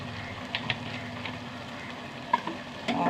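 Fresh curry leaves sizzle in coconut oil in a pan, a steady crackling fry with a few sharper pops and spits across a few seconds, close up and without speech.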